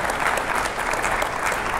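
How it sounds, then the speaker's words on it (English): A crowd at a FreedomFest main-stage event breaks into full, steady applause, close and loud, with individual claps merging into a continuous wash that holds at even volume and no voices. "I think we should all applaud him"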